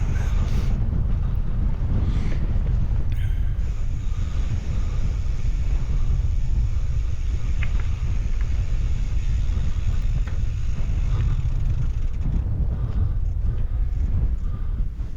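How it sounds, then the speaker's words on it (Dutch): Strong wind roars steadily across an exposed microphone at a sunny coastal viewpoint, a constant heavy rumble that buffets and never lets up. "Beetje winderig kun je zien aan de mouw van Jim."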